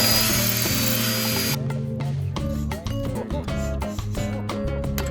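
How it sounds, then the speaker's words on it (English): A power drill with a carbide bit whines loudly, then bites in with uneven grinding and chattering as it bores through a wall, close by. "you gotta have these carbide drill bits or you're not gonna get through a wall"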